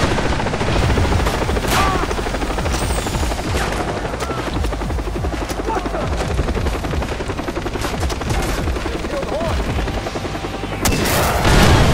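Far Cry 3 game combat with a helicopter's thudding rotor under dense bursts of automatic gunfire and scattered booms, loud and continuous throughout.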